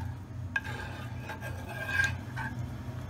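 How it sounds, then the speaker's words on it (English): A spoon stirs barbecue sauce of brown sugar, Worcestershire, vinegar and crushed garlic in a pot, with soft scraping and rubbing strokes against the pan over a low steady hum. "All we want to do is mix this all together and bring it up to a simmer"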